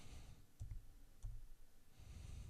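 Computer mouse clicks, a few sharp isolated taps spaced about half a second apart, quiet and close over a low steady room hum with no talking.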